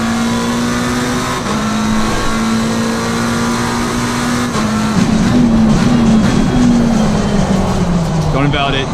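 A Ford Mustang race car in Assetto Corsa Competizione drones at steady, loud engine pitch through the whole stretch, dipping and sliding lower toward the end as it slows, with a voice talking over it.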